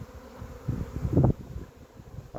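Honey bees buzz faintly around a crowded hive during swarm inspection, a low steady hum with a slightly louder swell partway through, no voices.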